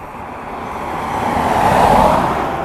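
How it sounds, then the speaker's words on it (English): A steady roadside rush of countryside traffic near Crusheen and Gort, Ireland, swells as a car passes nearby, then eases off, with a constant hiss of road noise throughout. "can hear the cars there. I'm just on the side of the road."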